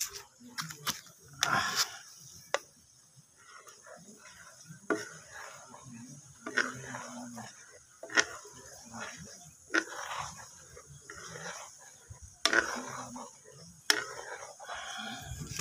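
Coconut milk being cooked down into oil is stirred in a pot: soft scraping strokes and sharp intermittent clicks against the metal, with a faint sizzle underneath and someone talking over it now and then.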